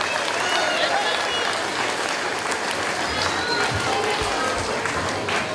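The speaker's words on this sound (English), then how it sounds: "so give her a big round of applause." Loud, sustained applause from a large audience, steady clapping filling the space with a few voices and cheers mixed in.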